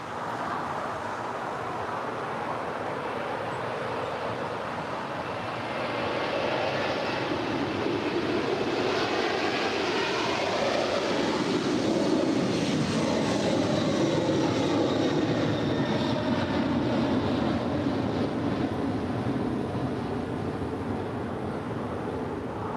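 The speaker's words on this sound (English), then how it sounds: "heavy 747 departing, caution wake turbulence, runway 25 left" A heavy Boeing 747 jet departing at LAX roars past as a loud, broadband engine rumble that swells over several seconds and holds strong, with no one talking.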